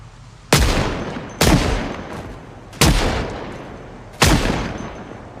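Four loud pistol gunshots in the game Project Zomboid, spaced irregularly about a second apart, each a sharp crack with a reverberant tail, no talk.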